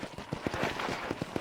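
Horse hooves pound at a gallop in Red Dead Redemption, a short burst of rhythmic, evenly spaced thuds at moderate loudness, close by and heard alone.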